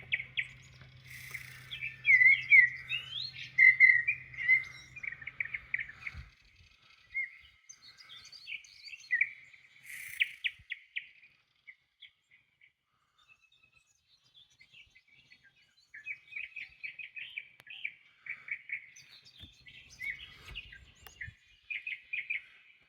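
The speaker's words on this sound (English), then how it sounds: "they look all like they're blue jays" Flock of blue jays chirping in a tree at a farm: bursts of bright chirps and calls come and go in clusters, fairly close, with a pause midway before the chatter resumes.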